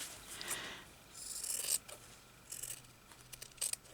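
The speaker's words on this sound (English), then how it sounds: "I'm going to cut them bits off the side part." Scissors snipping side pieces off fabric and lace for a handmade journal, several quiet, close crisp cuts in short bursts with pauses, no voices.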